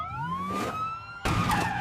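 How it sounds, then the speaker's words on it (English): Police car siren wailing in a rising, sustained tone, loud and close, with a sharper burst of vehicle noise partway through; no voices. "We're using the siren!"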